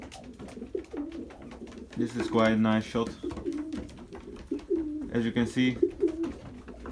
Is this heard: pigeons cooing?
yes